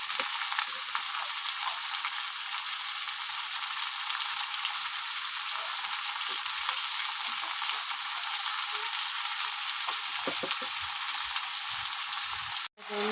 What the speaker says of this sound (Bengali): এবার আমি একটু ভালো করে ভেজে নেব